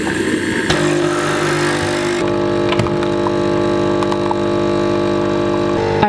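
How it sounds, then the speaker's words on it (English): A home washing machine runs in the background, a steady mechanical hum with tonal whine that shifts partway through to a smoother, more even drone, joined by occasional faint clunks. "if you can hear that in the background, it's my washing machine"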